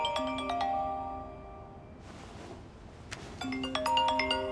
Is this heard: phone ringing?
yes